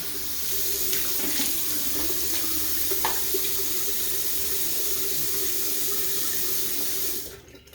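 Tap water runs steadily into a sink for rinsing the face after a double-edge razor wet shave, a loud, close, continuous splashing hiss that stops near the end.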